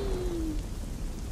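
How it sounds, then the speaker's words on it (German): Rain falls in the video game Little Inferno as a faint, steady hiss with a low rumble underneath and a brief tone fading out early. "Nein, es regnet."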